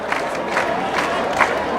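A dense crowd gathered outside a monastery for a bishop's procession, with a steady roar of many voices and recurring swells of cheering or shouting.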